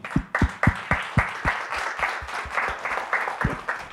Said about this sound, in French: Moustapha, bravo pour ta victoire, on peut t'applaudir.